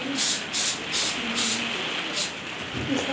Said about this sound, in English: Not too much, just a light spray there, go on.